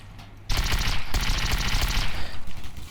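Rapid automatic gunfire from a gory video game bursts in loudly after a short quiet lead-in, a dense rattling volley that keeps going with brief uneven pulses toward the end.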